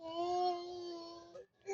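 A person imitates a baby crying with a wavering, whiny wail that holds for over a second, then breaks off with a short sob, close and fairly quiet.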